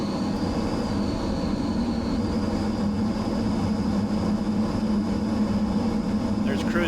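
An amphibious flying car on its takeoff run along a runway: a steady, loud engine drone with broadband roar that holds constant throughout, up close from inside the craft.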